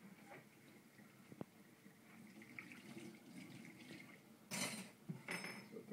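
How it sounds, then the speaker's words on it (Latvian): Glasses being washed under a running kitchen tap, a steady hiss of water with a faint clink of glass, then louder splashing bursts near the end; no speech. "Izmazgāt tās glāzes."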